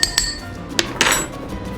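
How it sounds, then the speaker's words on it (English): Ice cubes dropped into a cocktail shaker make a few sharp, bright clinks against the metal and glass, close up, with no talking. "and now we're gonna add some ice."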